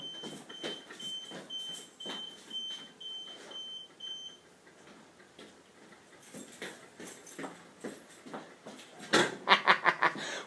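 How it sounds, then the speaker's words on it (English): Low-battery smoke alarm in a home gives a series of evenly spaced short high chirps over the first few seconds, alone and fairly quiet, followed by scattered clatter and a louder burst of knocks near the end. "That's my alarm system telling me that I need a battery."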